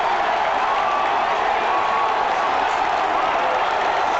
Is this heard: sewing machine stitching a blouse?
no